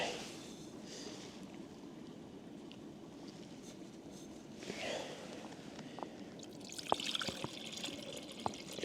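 Boiling water poured out at a solo campsite, a soft, steady trickle and splash heard close by at low volume, with a few sharper clinks and drips toward the end.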